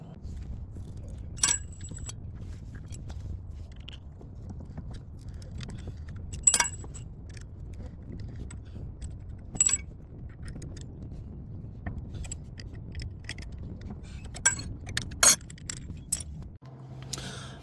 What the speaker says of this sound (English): So we'll start twisting this to compress the piston